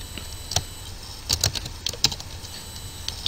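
Scattered keystrokes on a computer keyboard as code is typed, a few sharp taps standing out over a steady hiss with no talking.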